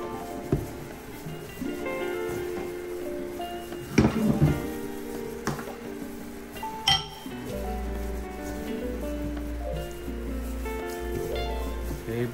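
Spoon clinking against a pot while stirring squash and corned beef together, with scattered light clinks and scraping over a faint sizzle, close and moderately quiet.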